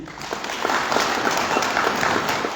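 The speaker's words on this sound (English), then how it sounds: "A round of applause again." An audience gives a round of applause at an official gathering about Zimbabwe's ZiG currency, a dense, continuous roar of clapping held at steady volume throughout.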